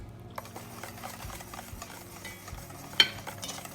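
Pumpkin bread batter with curdled buttermilk being stirred in a bowl, a soft continuous wet scraping and swishing with occasional light clinks of the utensil against the side, one sharper tap near the end.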